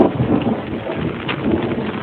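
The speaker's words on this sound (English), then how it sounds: "That was a sleet storm." A sleet storm with rain, heard by a lone motorcyclist on the road, as dense, loud, continuous hissing and pattering with low rumbling underneath and no talking.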